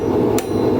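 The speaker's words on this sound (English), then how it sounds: "We're working over the far edge of the anvil." A blacksmith's hammer strikes hot metal twice over the far edge of an anvil while forging a spiral, the blows sharp, loud and close together.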